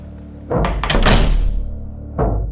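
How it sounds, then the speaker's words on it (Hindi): A door slams shut with a heavy, booming thud in a horror animation. It starts with a cluster of loud knocking impacts, then a lower second thump follows about a second later, with no voices. "अचानक दरवाजा उसके पीछे जोर से बंद हो गया।"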